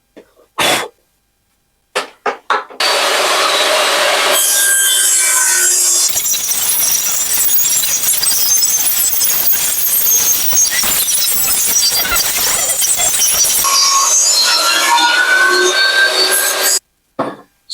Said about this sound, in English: All I have to do is cut the board to be the correct width, and I'll do that on the table saw.